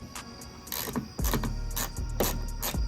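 Car taillight being bolted in, a series of quick ratcheting and clicking bursts with soft knocks, close and uneven in rhythm with no talk.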